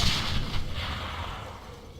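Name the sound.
grenade explosions in Darkest of Days video game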